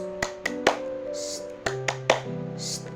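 A classroom tepuk diam clapping routine led by a teacher: a short irregular series of sharp hand claps mixed with spoken chant words, ending in a hushing shh.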